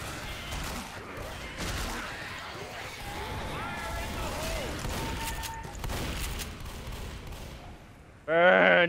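Gunfire in Left 4 Dead, repeated shots and bursts of mid-level intensity over a chaotic game soundscape, with voices and chatter throughout and a loud shout at the end.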